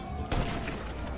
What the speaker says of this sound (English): Zach, I know you're shooting at me.